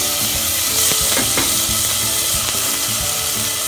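Ginger garlic paste sautés in a hot pan with continuous close sizzling, and a spoon scrapes and stirs now and then with soft clinks. No one talks.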